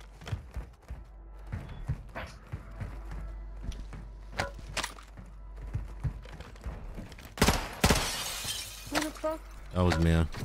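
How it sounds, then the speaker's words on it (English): Glass shatters in a video game, a bright, noisy crash bursting out near the end amid clicky keyboard taps, with people talking throughout. "I broke glass"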